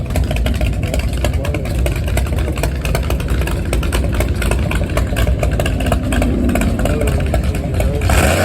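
A motorcycle at a classic car show revs loud and steady for several seconds, with a dense, close engine roar that swells slightly toward the end.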